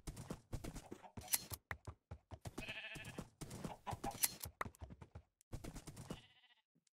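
Sheep in a video game bleat in a series of short, sharp calls mixed with clip-clop hoof sounds, close and fairly quiet, with brief gaps between bursts.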